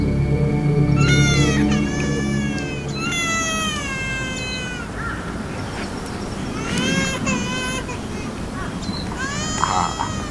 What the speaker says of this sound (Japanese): あれはおそらく赤子の声。